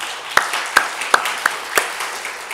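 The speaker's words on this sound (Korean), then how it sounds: "하나님께 영광의 박수 돌려드리겠습니다." A church congregation offers applause in praise, heard as five or six sharp, evenly spaced claps in a slow rhythm over quiet room tone, with no voices.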